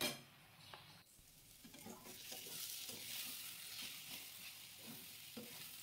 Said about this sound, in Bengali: দিয়ে আবারও নাড়ব। চিকেন, আলু, মশলা ভালোভাবে কিন্তু কষতে হবে।